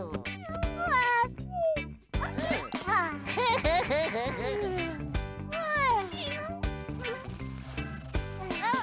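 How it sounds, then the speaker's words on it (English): A small black cartoon cat meows repeatedly in high, bending cries, loud and close, with a child-like voice talking among the meows and a light jingle. "it's only the little black cat"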